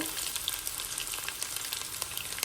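Chopped ginger and garlic frying in hot oil for payaru (mung bean) sambar: a steady, close, dense sizzle with fine crackling throughout and no speech.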